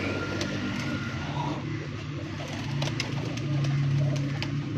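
A pearl-spotted pigeon on a rooftop in Dinga gives a low, steady throaty coo, with a constant hum of distant traffic underneath.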